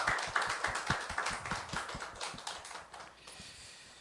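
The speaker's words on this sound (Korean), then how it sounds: "우리 먼저 하나님께 영광의 박수를 우리 같이 올려주시기 원합니다." A Korean church congregation claps in quick, even rhythm, many hands overlapping into a soft, steady patter that thins slightly toward the end, heard at a distance with no talking.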